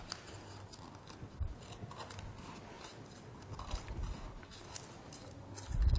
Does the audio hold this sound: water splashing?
no